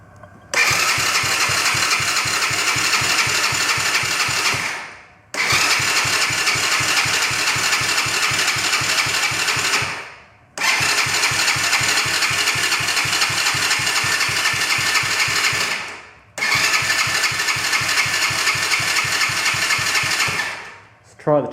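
Quad bike engine being cranked over by its electric starter in four long bursts of about five seconds each, separated by brief pauses, close and loud, with no catch into a steady idle after a carburetor repair.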